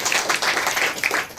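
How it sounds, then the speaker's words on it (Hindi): A church congregation claps together during a Sunday morning service, a dense burst of hand claps at close range with a few louder peaks, and no voices are heard. "एक जोरदार ताली बजाइए।"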